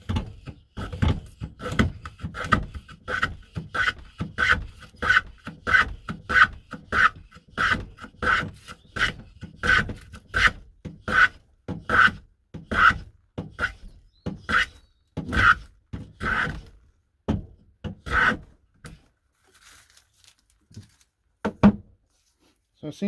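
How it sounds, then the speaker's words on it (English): An antique wooden coffin plane being pushed over a rough piece of old pine clamped in a vise, giving close, rhythmic rasping strokes about a second apart that stop near the end. "I'll get it in the vise and we'll get planing"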